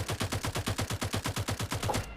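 Rapid automatic gunfire in the video game Farlight 84 rattles off as a long, evenly spaced burst of about a dozen and a half shots, loud and close with no speech.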